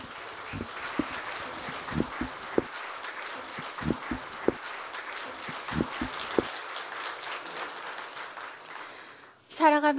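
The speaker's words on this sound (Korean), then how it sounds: "큰 박수 역시 부탁드리겠습니다." Applause from an audience at a Jeju forum culture session as a local food chef is introduced, a moderately distant wash of scattered claps with a few sharper nearby ones, fading out before a brief louder sound at the end.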